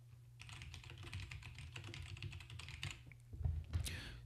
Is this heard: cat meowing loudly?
no